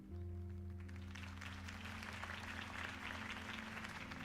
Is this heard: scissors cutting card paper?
no